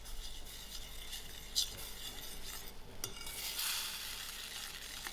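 Stirring in a pot of white sauce seasoned with a little pepper, giving a soft continuous scraping and swishing close by, with occasional light clinks of a utensil.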